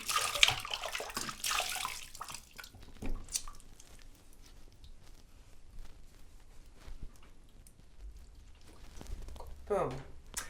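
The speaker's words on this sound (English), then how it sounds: "Get a nice rinse." Water splashing and rinsing over a client's face during a red carpet facial, with wet squishing bursts at the start and again near the end, softer splashes between, and a voice speaking quietly.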